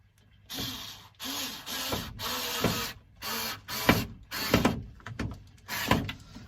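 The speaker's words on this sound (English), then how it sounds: "So I'm just going to screw this one into place." A screw being driven into a piece of an allotment pea-planting frame, heard as a series of loud, close whirring bursts of a powered driver with short pauses between them and no talking.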